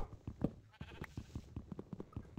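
Sheep bleating in Minecraft, a series of short repeated bleats in quick succession at moderate level with no talking.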